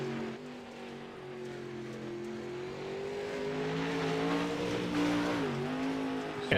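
A dirt-track race car, number 422, runs laps at Cedar Lake during a spring nationals event, its engine holding a steady harmonic drone that rises and dips with throttle changes, moderately near, with no voices.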